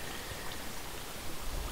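Flowing water in Minecraft makes a brief, steady rushing wash, even and moderately loud, with no talking.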